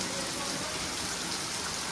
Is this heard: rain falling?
yes